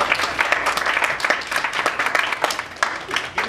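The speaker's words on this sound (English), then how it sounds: "Give yourself a round of applause." An audience gives a steady round of applause at a motivational talk, many hands clapping densely and continuously for a few seconds, with a faint voice or two mixed into the crowd noise.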